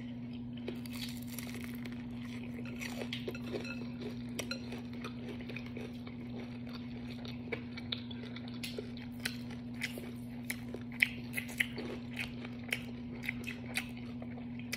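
Honey orange ginger chicken wings dipped in ranch being bitten and chewed up close, with soft crunchy bites and mouth sounds repeating over a steady low hum.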